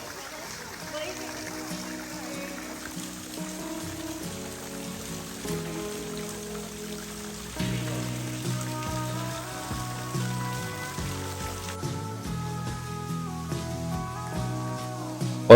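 Water spills over the thick roots of trees near Mawsmai in Meghalaya as a constant, even rushing wash, heard faintly beneath background music and a voice.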